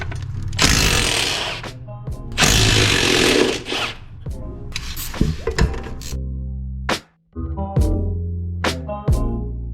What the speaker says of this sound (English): Next, I'll be removing the 4 nuts right here.